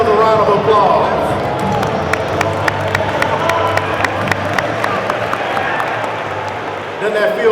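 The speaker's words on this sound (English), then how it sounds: "A round of applause." Convocation audience in a large hall at a university homecoming gives a dense, sustained roar of crowd noise, cheering and scattered clapping, with crisp individual claps popping out of the din.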